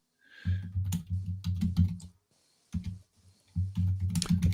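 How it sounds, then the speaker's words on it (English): Rapid clattering keystrokes on a computer keyboard, close and loud, typed in several bursts separated by short pauses. "You've got to type in what the route name is."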